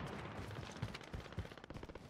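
Gunfire in the battle royale video game Call of Duty Warzone, a steady crackle of shots with a few sharper reports, moderately loud and continuous for about two seconds with no talk over it.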